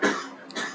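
A single short, harsh cough from a person with a worsening cough, close and loud, followed by a brief throat-clearing rasp.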